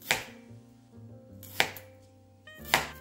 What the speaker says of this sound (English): take our knife and slice down vertically along the perimeter of this onion